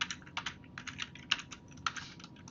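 Quiet, close keystrokes as a username and password are entered on a computer keyboard, an irregular run of soft clicks with brief pauses.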